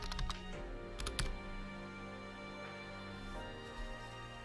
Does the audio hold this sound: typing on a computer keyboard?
yes